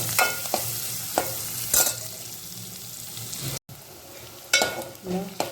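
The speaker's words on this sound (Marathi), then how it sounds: "त्याच्यानंतर मिरच्या कांदा व्यवस्थित आपण परतून घेऊया" Green chillies and onion are sautéed in a pan with a steady close sizzle, broken by several sharp scraping stirs and a brief dropout, fairly loud, with no talking.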